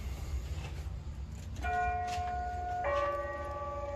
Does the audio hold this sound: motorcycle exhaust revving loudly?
no